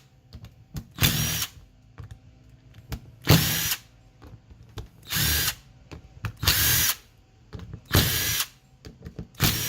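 A power tool spins out 8mm bolts on a 4T65E transmission while a shift kit is fitted, in six loud, close bursts of whirring separated by short pauses.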